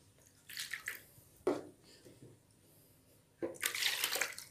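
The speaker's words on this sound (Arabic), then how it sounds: "اول حاجة هحطها الكوباية والنص مية" A cup and a half of water is poured for croissant dough, short splashy pours and a soft thud in a quiet kitchen, with faint movement between them.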